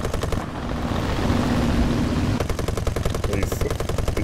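Small-calibre guns firing at a tank in the video game War Thunder, a steady engine-like drone first, then rapid repeated shots in a regular rhythm.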